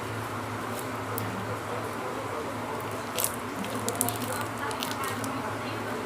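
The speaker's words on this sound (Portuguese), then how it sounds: "Desculpa pelo barulho, porque tá chovendo muito aqui, tipo, muito mesmo." Heavy rain pours steadily outside, a dense broadband hiss with scattered brief splashes and drips standing out near the end, continuous and fairly loud throughout without pause.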